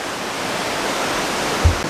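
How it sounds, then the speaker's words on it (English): Pecker Falls on the Ingleton Waterfall Trail, a raging waterfall in full flow, producing a loud, steady roar of rushing water heard up close, with a brief thud near the end. "we've made it up to the first waterfall, Pecker Falls this one's called. And it's raging, absolutely raging."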